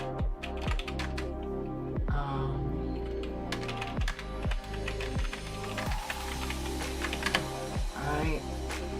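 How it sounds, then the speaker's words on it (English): Rapid, clattering keystrokes on a computer keyboard, up close and continuous, with irregular bursts and heavier thumps from larger keys. "If my computer catches up with my typing."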